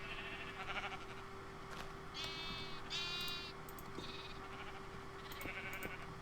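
Sheep in the Sevtech Ages Minecraft modpack bleat several times in quick succession, close and clear over a steady low background hum with no talking.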